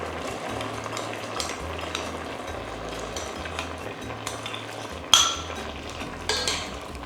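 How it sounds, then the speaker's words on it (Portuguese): Cooked catarino beans are tipped into a hot pan and stirred, producing a steady sizzle and frying hiss with scraping utensil sounds and one sharp clatter of metal against the pan. "Vamos agora adicionar o nosso feijão, que está aqui reservado desde o início."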